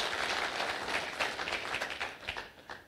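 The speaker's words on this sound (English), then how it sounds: "I think we give a big round of applause." Audience applause for a celebrated writer at a live event, a dense wash of clapping that swells and then thins out toward the end, with no voices over it.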